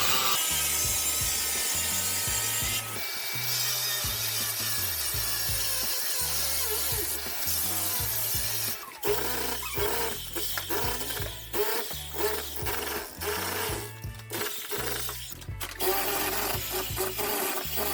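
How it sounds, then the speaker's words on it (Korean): An angle grinder cuts through a cast-iron drain line in a wall, grinding harshly with stuttering, uneven bursts of scraping and rattling throughout, loud and close. "그라인더로 이 라인을 싹 잘라보겠습니다"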